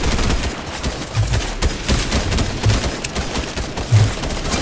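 Video game gunfire rattles in dense, continuous bursts and volleys, loud and close throughout.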